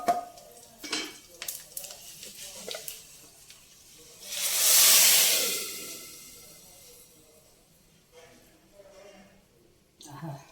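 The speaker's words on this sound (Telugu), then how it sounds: "ఇప్పుడు తాలింపు ఇందులో వేసేసుకున్నాం." Hot tadka poured into sambar sets off a sudden loud hissing sizzle that swells, then fades over a few seconds, framed by scattered pan clatter and brief talk before and after.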